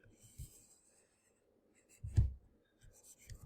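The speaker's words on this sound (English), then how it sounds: "over here I'll do a quick sketch" Soft pen or pencil strokes sketching a slope-intercept graph by hand, a few short scratchy bursts close by in a quiet room, one slightly louder stroke near the middle.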